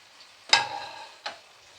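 Onion paste and crushed garlic frying in a pan as they are stirred, with two sharp sizzling scrapes of the spoon against the pan, the first louder, over a faint background hiss.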